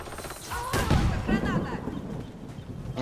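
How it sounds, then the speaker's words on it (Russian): A grenade blast in the online shooter Warface during a fast-paced multiplayer round, a sharp loud burst with rumbling gunfire and battle noise around it while players talk over the action. "Кидаю гранату!"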